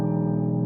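Piano plays Debussy's Sunken Cathedral with the soft pedal a quarter down, a sustained low chord held steady and resonant throughout the short stretch, with no talk.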